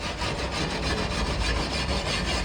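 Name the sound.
wire wheel sanding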